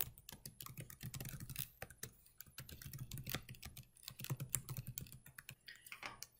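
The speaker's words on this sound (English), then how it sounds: "And then I need to type in my credentials." Credentials are typed on a computer keyboard, a quiet, close run of rapid key clicks in uneven bursts with brief pauses between words.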